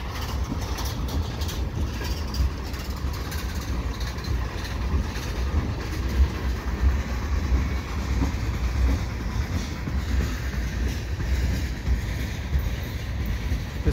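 A slow CN freight train rolls past on the nearer track at St Henri, a steady, moderately loud rumble of railcars with faint clickety-clack of wheels over rail joints, continuous throughout and without any talk.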